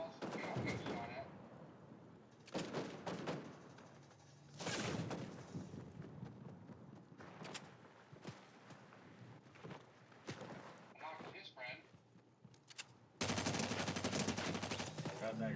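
Bursts of automatic and single-shot gunfire in a Fortnite match, several loud volleys separated by short gaps, with players talking over the action.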